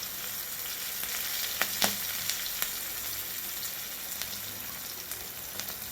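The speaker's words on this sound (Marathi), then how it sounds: "मिरची चांगली फ्राय झाली की लगेच आपण त्यामध्ये कढीपत्ता घालणार आहोत।" Green chilies and curry leaves fry in oil for a tempering, giving a quiet, even sizzle with a few small pops and crackles scattered through it.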